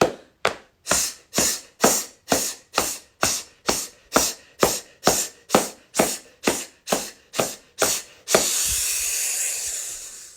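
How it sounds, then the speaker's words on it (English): Rapid, regular hand drumming on the abdomen during a qigong breathing exercise, about twenty sharp even slaps in a steady rhythm, close and loud, ending in a hissing breath. "Drum your abdomen, you might as well, it's part of the breathing process."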